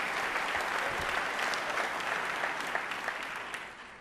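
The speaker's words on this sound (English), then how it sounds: "We applaud you." At a 2019 State of the City address, an audience gives sustained applause, a full, close crowd of clapping hands that holds steady throughout and tapers off gently at the close, with no voices over it.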